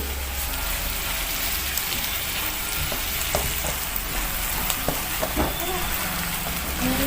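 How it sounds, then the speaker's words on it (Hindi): Mashed potato frying in a pan of oil for vada pav filling, giving a steady close sizzle with scattered crackles and pops and no talking. "इसके अंदर अभी हम मैश पोटैटो डालेंगे।"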